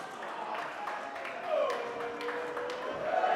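A wrestling crowd reacts during a match, with cheers and scattered clapping rising into a sustained roar in the arena, under excited ringside commentary.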